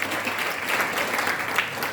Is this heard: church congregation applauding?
yes